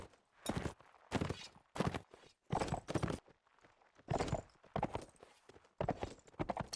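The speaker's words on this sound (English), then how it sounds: "As I'm sure LaRue is hearing that horse and trying to aim down on." Horse hooves clip-clop in a video game battle, loud and close in an uneven, galloping rhythm of sharp clustered hits separated by brief gaps.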